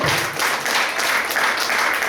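A church congregation applauding, a steady wash of clapping that fills the room at a constant loud level for about two seconds, with no clear voices over it.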